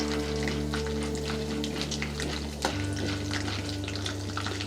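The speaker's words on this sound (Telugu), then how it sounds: "శనగపప్పు వేసి వేయించుకోవాలి" Chana dal frying in three tablespoons of hot oil in a kadai, a steady close sizzle and crackle running throughout with light stirring, no voices.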